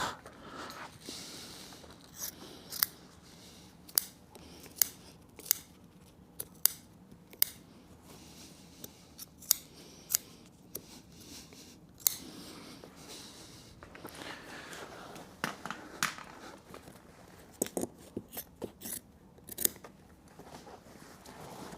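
Scissors snip fabric while trimming the upholstery of a wing chair covered in check fabric. The cuts come as sharp, close, intermittent snips spread across the clip, over quiet handling noise.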